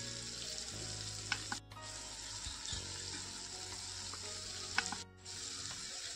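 Spice tempering sizzles and crackles in hot oil for stuffed brinjal, a steady frying hiss with a few sharp pops and brief dips in the noise.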